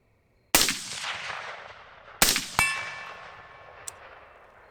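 Three loud gunshots ring out toward a 100-yard target, each a sharp crack with a long reverberant decay, the last two close together, followed by a faint metallic ping.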